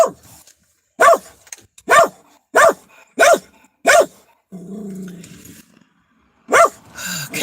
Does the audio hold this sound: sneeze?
no